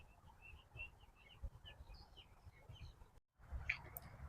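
Busy bird chirping and twittering over a low outdoor rumble, with a brief dropout near the end before the chirps resume.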